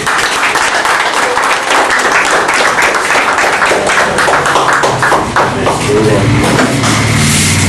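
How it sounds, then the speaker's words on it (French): Church congregation clapping for Jesus during a healing service led by a prophet, loud, dense rhythmic clapping mixed with singing or shouting voices throughout. "Il faut applaudir à Jésus."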